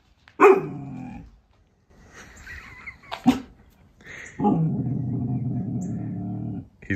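A dog barks and growls in several loud, close bursts, ending in a long drawn-out growling bark, with brief pauses between.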